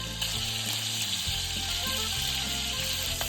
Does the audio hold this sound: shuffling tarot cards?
no